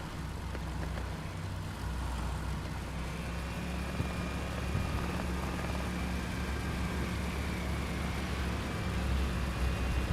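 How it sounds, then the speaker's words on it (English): A bomber plane flies over in the Hell Let Loose video game, heard as a continuous heavy engine drone that holds steady and loud for the whole stretch with no talking. "Bomber run coming up to the north."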